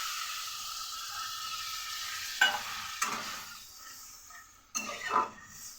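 Pumpkin greens cook in a pan with a little water, giving a soft, steady sizzle and simmer broken by a few sharp stirring scrapes and clinks of a utensil close by.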